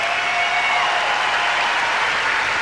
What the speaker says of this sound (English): Acknowledging the crowd as they give him a standing ovation